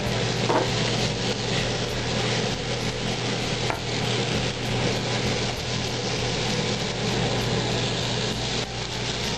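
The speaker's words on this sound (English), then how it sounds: "Stir it around." Low-carb fried "rice" sizzling loudly in a hot pan, a dense continuous frying hiss with faint scraping from stirring, close up with a steady low hum underneath.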